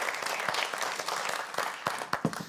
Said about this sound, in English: A round of applause would be nice